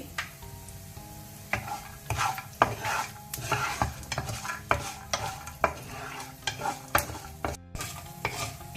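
Cashews and raisins roast in hot ghee in a pan, with rhythmic stirring scrapes and soft sizzling repeating steadily at close range.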